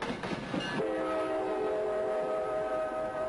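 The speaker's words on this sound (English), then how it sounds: "Railroad buffs from all over New York recently got together to ride a special train. It was the old Erie Lackawanna line" A special excursion train on the old Erie Lackawanna line sounds a loud sustained horn chord after a brief rumble, the tone holding steady over continuous rolling rail noise.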